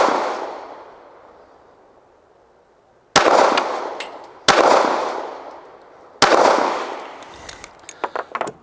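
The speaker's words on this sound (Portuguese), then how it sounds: "5 disparos agora com a TS9 no alvo verde" A TS9 pistol fires at a target on a shooting range, loud sharp reports spaced a second or two apart, each leaving a ringing metallic tail, with smaller clicks and clatter afterward.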